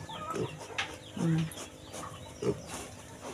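A few soft clucks from a chicken nearby, spaced irregularly over quiet background noise.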